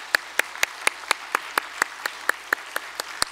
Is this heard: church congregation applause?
yes